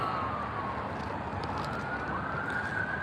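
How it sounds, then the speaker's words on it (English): A distant ambulance siren wails down the street near a hospital, faint and steady with a slowly gliding pitch over low traffic rumble, with no speech over it. "you'll probably hear a lot of that too, the ambulance and stuff."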